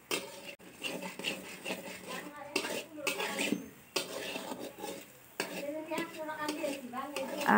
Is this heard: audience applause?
no